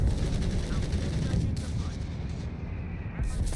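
Mortar fire and other battle sounds from the World War II strategy game Company of Heroes 3, heard as dense, loud booming and rumbling explosions that run without a break, with a voice speaking underneath.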